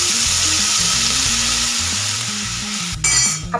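Eggplant pieces simmering in a pan with oil and a glass of added water give a steady, close bubbling sizzle, with a brief metallic stir or clink near the end.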